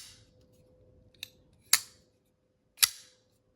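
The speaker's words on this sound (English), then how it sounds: "This uses a flipper tab for opening." ZT 0562MIC folding knife with Micarta handle and CPM-MagnacutClip blade, flipped open by its flipper tab: a few sharp metallic clicks and snaps, close and crisp against a quiet background.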